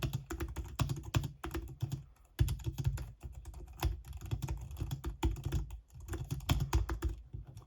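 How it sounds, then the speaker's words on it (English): Rapid clicky keystrokes on a compact Logitech MX Keys Mini keyboard patter in bursts with brief pauses, close and crisp, no voices. "But let's listen to the keyboard."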